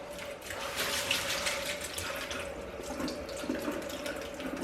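Cold water runs steadily from a kitchen tap into a sink or pot of eggs, a continuous close splashing rush with no voices.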